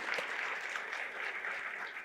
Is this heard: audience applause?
yes